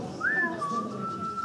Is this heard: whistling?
yes